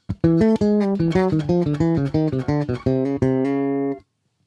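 A rapid run of evenly spaced plucked bass notes plays alone, close and clear, moving through a fast sixteenth-note pattern before stopping abruptly.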